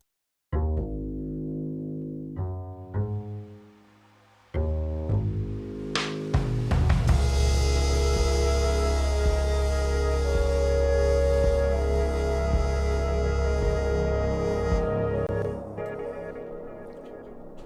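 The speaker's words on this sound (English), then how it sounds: "once it escalates, you get to hear more of the trumpet with some of the dry signal mixed in." Adaptive video game music for The Raid: Rise of the Golden Idol DLC: a sparse upright bass line opens, then around six seconds the arrangement escalates into a loud, dense layer with trumpet, sustained to the end.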